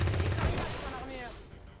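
Gunfire in the tactical strategy game XCOM Long War 2: a dense burst of automatic shots at the start that fades into a decaying rumble and tail, loud and close, with no voices over it.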